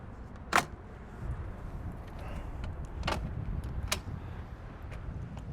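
A tilting bike rack on a car is swung back so the trunk can open, giving a few sharp clicks and clunks, one near click at the start and two more a few seconds later, over low outdoor rumble.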